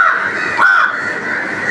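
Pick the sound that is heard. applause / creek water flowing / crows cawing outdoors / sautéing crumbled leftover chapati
crows cawing outdoors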